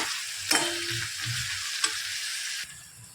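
Onion and tomato fry in a pan for methi masala, a continuous close sizzle broken by a few sharp scraping stirs of a spoon, fading softer at the end.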